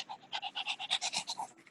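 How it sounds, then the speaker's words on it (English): A pug dog panting and snorting up close, a quick rhythmic string of about a dozen raspy breathy huffs, evenly spaced and fairly quiet, with no talking over it. "Sounds like my pug. That's my dog."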